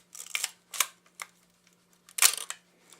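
A 1960s Nikkormat FTN SLR camera fires its shutter at 1/125 s, a close, dry series of sharp mechanical clicks and clacks in short bursts with quiet gaps between, the loudest near the end.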